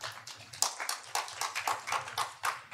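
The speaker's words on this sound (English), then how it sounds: "We clap our hands for Jesus Christ." A church congregation claps together during a worship service, a steady rhythmic beat of claps about every half second, fairly close, over a low hum.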